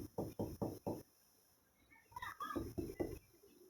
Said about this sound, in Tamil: கதவை யாரும் தட்டுறாங்கடா